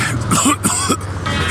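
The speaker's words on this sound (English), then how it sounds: "Every time I cough, it feels like I'm being stabbed in the chest." A wounded character in the Mafia 2 video game, struggling with broken ribs, gives a few short rough coughs and throat-clearing bursts over a steady low background hum.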